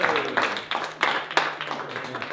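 A convention audience at a manga fair session with Dragon Ball voice actors gives a brief, scattered round of handclaps for a voice actress, a few distinct claps over a soft murmur of room noise.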